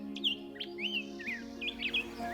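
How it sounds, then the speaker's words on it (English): Small birds sing and chirp in spring at Bosque del Apache wildlife refuge, several short bright tweets and trills close by over a steady low hum, with no talking. "we get a lot more little birds and you hear"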